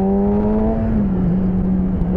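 A Yamaha R6 sportbike engine drones loud and close at steady road speed, its pitch sagging slightly midway, over a rough rumble of wind.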